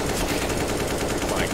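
Video-game gunfire from a MAG-7 auto shotgun, a dense loud burst of rapid shots filling the whole short stretch with no gaps.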